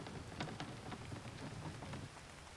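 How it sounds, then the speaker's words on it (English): Steady rain falls in a survival video game, a dense even hiss with scattered drop patters and no talk over it. "Oh, it's raining again."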